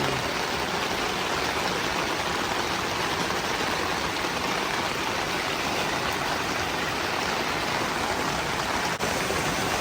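Rainwater flowing into a subdivision during a flood makes a steady, dense rushing wash like a stream, constant and even throughout with no voices.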